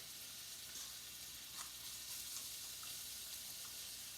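Steady, hissing sizzle of oil in a hot pan, close and continuous, with a few faint crackles and pops scattered throughout.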